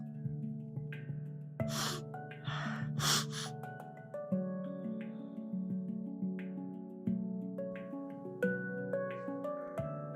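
Slow breaths are taken while lying in yoga crocodile pose. A few soft, airy inhales and exhales sit over a sustained, gentle musical drone.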